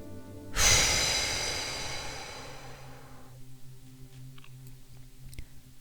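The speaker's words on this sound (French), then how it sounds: "puis soufflez fort par la bouche pour vous dynamiser." A strong exhale pushed hard through the mouth during a guided relaxation exercise, a single loud close breath that starts abruptly and trails off over a few seconds.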